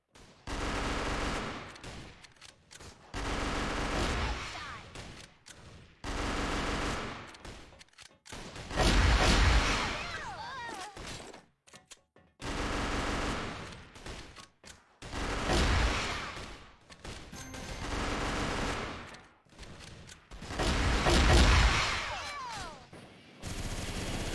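Rapid automatic gunfire from a shooter video game, coming in several sustained bursts of a few seconds each, separated by short pauses, loud and close with no talking over it.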